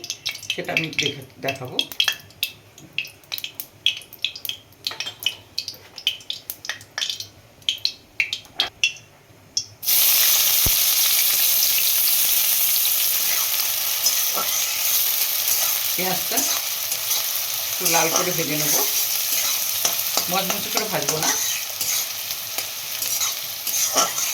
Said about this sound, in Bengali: প্রথমেই আমি কিছুটা পেঁয়াজ বেরেস্তা ভেজে নেবো